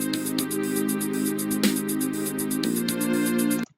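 A finished MIDI music project plays back in Acid Xpress, a steady electronic arrangement with regular percussive beats over sustained synthesized tones, clear and even, cutting off abruptly at the end.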